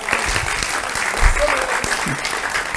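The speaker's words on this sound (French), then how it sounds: "Donc on peut applaudir David." An audience at a prayer seminar applauds David with a loud, dense burst of clapping that carries steadily, while a few voices murmur over it.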